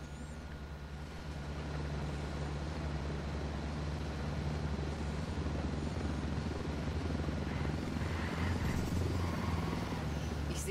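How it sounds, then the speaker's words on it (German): A steady helicopter rotor drone in the Ghost Recon Wildlands video game, a continuous low thrumming that holds evenly throughout with no talk over it. "Das ist noch nicht der Heli gewesen, den wir suchen."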